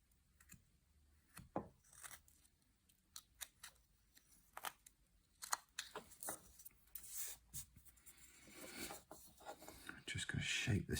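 Faint, close, irregular cuts and scrapes of a carving knife shaving wood while shaping a nose on a St Patrick's Day carving, with sharp ticks and short rasping strokes separated by quiet gaps.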